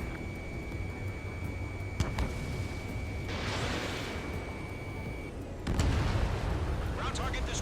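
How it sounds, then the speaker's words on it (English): In Ace Combat 7, a missile launches with a sharp burst and then strikes a ground target with a heavy boom, both loud against steady jet and radio background. "Missile away."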